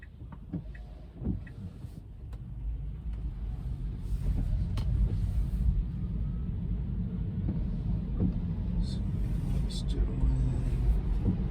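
Tesla car driving on a California freeway on-ramp in light rain and merging into traffic, a steady low road rumble that swells as it speeds up, with occasional faint ticks.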